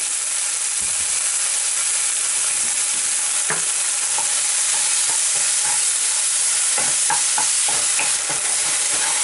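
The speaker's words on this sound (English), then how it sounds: "cook till the tomato pieces take a massive form" Chopped tomatoes and potatoes cooking in a pan with a constant bright sizzle and hiss, overlaid by repeated scraping and stirring knocks that grow busier toward the end; no one speaks.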